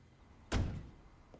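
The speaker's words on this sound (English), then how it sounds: "he doesn't seem happy with the door slam." A single door slam in a TV drama episode: a sudden heavy thud that booms briefly and then fades, set against quiet room tone, with a faint tap afterwards.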